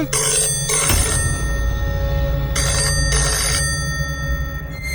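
A telephone rings in two distinct bursts, bright trilling tones separated by a pause, clear and close over a low steady background hum.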